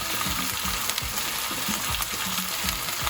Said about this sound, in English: getting a bit of a sear on that pork